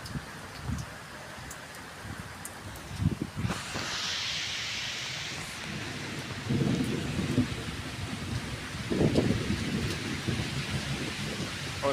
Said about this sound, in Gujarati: વીજળીના કડાકા ભડાકા સાથે ધોધમાર વરસાદ